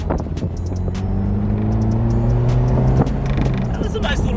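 A convertible sports car turning around in a cul-de-sac, its engine droning steadily under acceleration while the tires faintly chirp and skip on the pavement, with someone talking over it.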